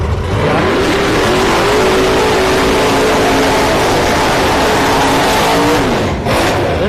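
A C4 Corvette launches hard at a no-prep drag race at Orlando Speed World, engine roaring loud and sustained with rising revs, crowd and track noise behind it and a brief dip near the end.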